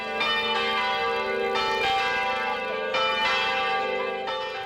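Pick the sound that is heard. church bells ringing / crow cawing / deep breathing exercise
church bells ringing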